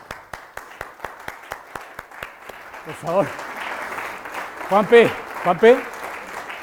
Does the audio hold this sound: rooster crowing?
no